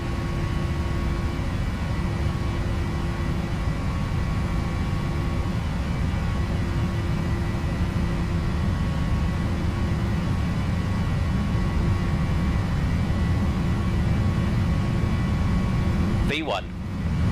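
Airliner jet engines spooling at takeoff thrust on the runway, a loud steady roar filling the clip heard from inside, ending with a brief sharp whine.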